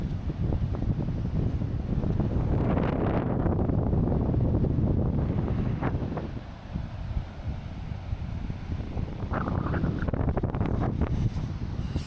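Strong wind during a wind warning roars as heavy gusts buffet the microphone outdoors, a loud, continuous rushing that eases briefly before surging again.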